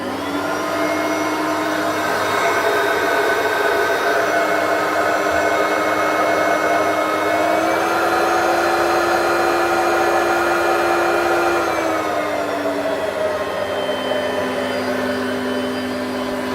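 A vacuum cleaner salvaged from the tip, fitted with a headlight and electronic speed control, runs continuously with a loud, close motor whine whose pitch shifts slightly, then drops near the end.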